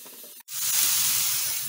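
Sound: crushed onion frying in pan

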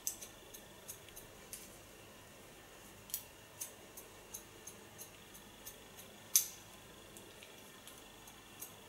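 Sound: scissors cutting hair

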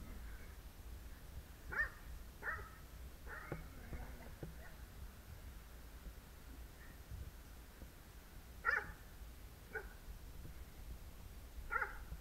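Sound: dog barking

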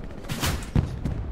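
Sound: gunshots in Hell Let Loose video game

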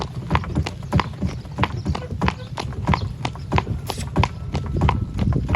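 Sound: horses hooves clip-clop

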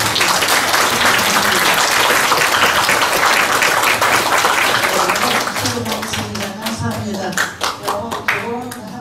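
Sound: audience applause at a ceremony

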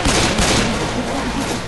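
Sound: gunfire in video game Left 4 Dead 2

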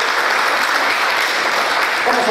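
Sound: applause from the audience

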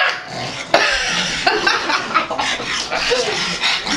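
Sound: puppy

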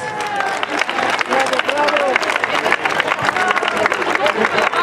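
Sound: audience applause for the volunteers

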